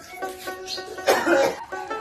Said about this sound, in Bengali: আপু খালি কাশতেছে